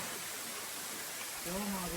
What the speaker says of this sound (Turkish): Uçan su birinci şelalesi. Çok güzel, çok bakir bir yer.